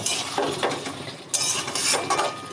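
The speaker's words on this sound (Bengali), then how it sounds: "এবার তাতে দিয়ে দিব চিংড়ি এবং ভেজে রাখা আলু এবং কাঁঠালের ইঁচড় এবার ভালোভাবে নাড়িয়ে চাড়িয়ে আবার কষিয়ে নেব" Prawns, fried potatoes and young jackfruit stirred in a pan for ichor chingri, with repeated scraping and clinking of a utensil against metal in uneven bursts, close and fairly loud, no talking.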